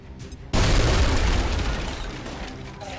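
Grenade detonating in the video game XCOM Long War, a sudden loud boom after a brief mechanical lead-in, followed by a broad rumbling roar that slowly fades.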